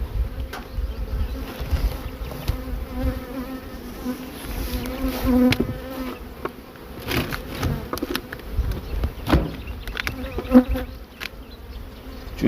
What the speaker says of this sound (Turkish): Bakın bu arı artık çok güzel polen getiriyor.